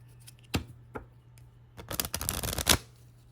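Tarot cards being shuffled up close, with a few soft isolated taps and then a dense riffling burst of card shuffling lasting about a second.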